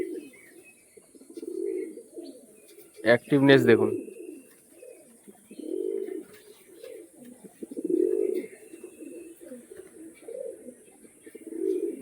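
Pairs of fancy pigeons cooing in a loft, low repeated coos rising and falling through the scene, with someone speaking briefly near the start and a steady high hiss underneath.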